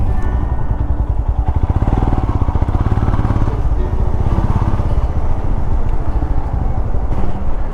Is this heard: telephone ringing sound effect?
no